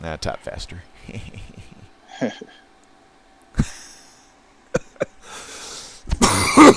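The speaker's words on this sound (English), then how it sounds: "Been having them coughs." Several sharp coughs from a person during a live online auction stream, loud and close, scattered among short bursts of speech and a throat-clearing sound, with a burst of noise at the end.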